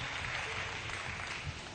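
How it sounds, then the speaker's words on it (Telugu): A congregation at a national pastors' conference claps loudly and steadily, a dense wash of applause filling the whole moment with no pause. "కొట్టా గట్టిగా చప్పట్లు"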